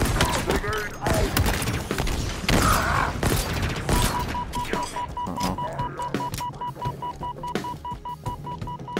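In Halo Infinite, a thrown grenade goes off as a sharp blast amid scattered gunfire and mechanical clatter, followed by a quieter stretch with a steady electronic tone and faint thumps.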